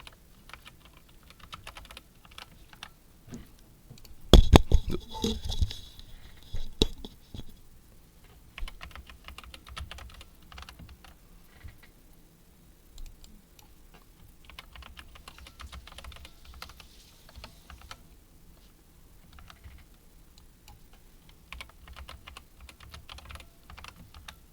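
Someone typing on a computer keyboard in rapid, uneven bursts of close key clicks, with a louder cluster of taps early on and lighter, sparser keystrokes afterward.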